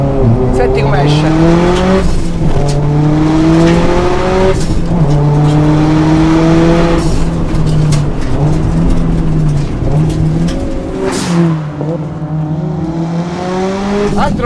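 A car accelerating hard through second, third and fourth gear, its engine note climbing and dropping at each shift with a throaty exhaust, loud and close, while people talk over it.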